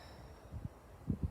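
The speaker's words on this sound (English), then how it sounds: "clear my throat there" Two short, low, rough throat-clearing bursts close to the mic, one followed by a quick double grunt, with quiet room tone between.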